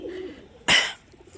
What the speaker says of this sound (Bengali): এইগুলো আছে আমার বাড়ির পায়রা, যে সবই ছাড়া রয়েছে